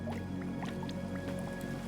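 Water drips in the video game AER: Memories of Old, several light, irregular plinks over a steady ambient hum, fairly near and without talk.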